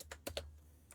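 Keystrokes on a computer keyboard as a terminal command is typed, a handful of sharp clicks in quick succession over about a second, close and fairly quiet with no voices.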